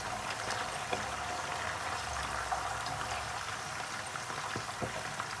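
Stuffed dum kababs fry in hot oil, giving a steady, even sizzle with faint crackles and pops throughout, at moderate level, with no talk.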